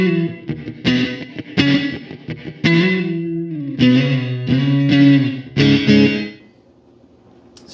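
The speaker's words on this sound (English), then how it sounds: "here is a plate reverb, again maxed out for your listening pleasure" Electric guitar through a Donner Cyclops amp's plate reverb set to maximum: chords and notes ring out drenched in bright, dense reverb, each strum leaving a shimmering tail that lingers as the playing stops.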